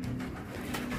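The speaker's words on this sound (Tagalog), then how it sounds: "Ayan yung ating mga ibon." Racing pigeons coo softly in a steady low murmur for a moment, with a faint flutter of other bird sounds around them.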